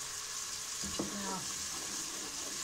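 Garlic and chili sizzle in hot oil in a pan, a steady fry with a brief scrape and clatter of stirring near the middle, no talk.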